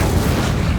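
Fiery Incendio spell blast from Hogwarts Legacy, a dense, continuous low booming roar filling the whole moment at steady loudness, heavy and close with no gaps.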